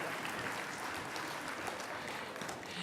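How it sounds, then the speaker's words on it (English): At the San Francisco Asian Pacific American Heritage Awards, an audience gives a steady, fairly faint burst of applause lasting a few seconds, with no talk over it. "one more round of applause"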